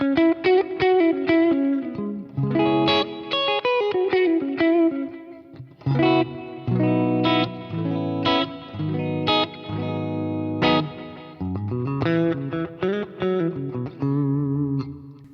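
An electric guitar played through a Kemper with a Fender '65 Deluxe Reverb amp capture runs melodic picked notes and chords, clean-to-gritty tone with a spring-like reverb tail, a few brief pauses between phrases.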